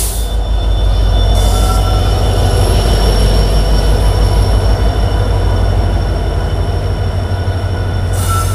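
A Dhauli Express train hauled by a WDG 4G diesel locomotive rolls past a railway platform, loud and continuous, with heavy low rumble and steady wheel squeal throughout.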